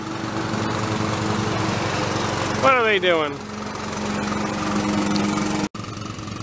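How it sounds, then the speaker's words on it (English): A lawn mower drones past on a June morning in the North Carolina mountains. Its steady engine hum rises and falls as it moves by, and a person briefly speaks over it. "Lawnmower came by, had to pause."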